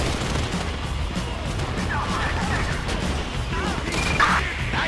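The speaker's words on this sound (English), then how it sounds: "You hear that gunfire?" Gunfire in the GTA V video game: sharp cracks and bursts of shots rattle through a busy, cluttered mix of game noise, mid-distance and fairly subdued, with no one talking over it.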